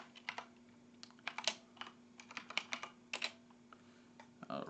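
Computer keyboard typing, close and fairly quiet, in irregular clusters of sharp key clicks with brief pauses, against a faint steady hum and no speech.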